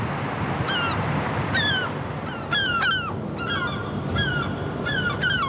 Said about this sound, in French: Là, on a 3 ou 4 goélands qui nous tournent autour, qui alarment.